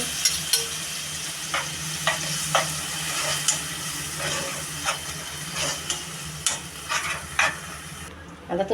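Misal ingredients are tempered and stir-fried in a pan: a steady close sizzle runs throughout, with a spatula scraping and stirring in repeated sharp strokes.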